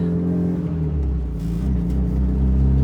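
Engine of a fully built Mitsubishi Evo 9 pulls steadily after a shift into second gear, a loud, continuous low rumble with rising harmonic whir, heard from inside the car with no talk.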